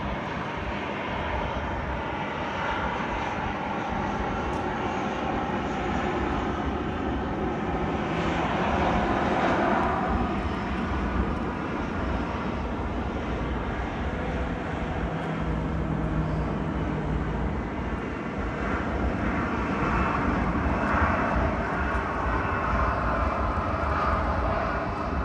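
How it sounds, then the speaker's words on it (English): Jet airliners departing Sydney Airport on runway 34L, including an Emirates Boeing 777 freighter: a loud, continuous engine roar that swells and holds for the whole stretch with no talking. "There's the Emirates 777 cargo. Not sure how much runway he's going to use."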